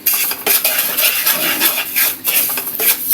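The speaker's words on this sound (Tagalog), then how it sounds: "Caramelize natin yung sugar. Continuous yung paghahalo. Kasama nung condensed milk." Brown sugar and condensed milk are stirred continuously in a pot to caramelize, with a steady scraping, clinking utensil rhythm against the metal and a faint sizzle underneath, close and fairly loud.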